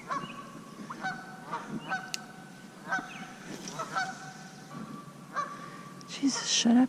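Canada geese honking repeatedly near a bass-fishing spot in the New York City suburbs, loud overlapping calls in an irregular rhythm with a brief voice mixed in.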